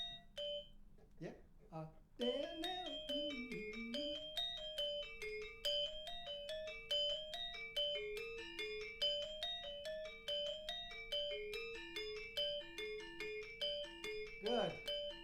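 Balinese gamelan ensemble of bronze metallophones and gongs playing a fast, continuous interlocking pattern of bright struck tones over a low sustained hum, loud and close after a brief vocal sound at the start.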